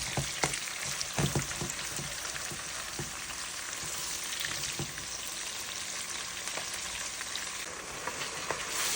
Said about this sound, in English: You want to keep stirring your sauce up till it is cooked, because you do not want it to burn.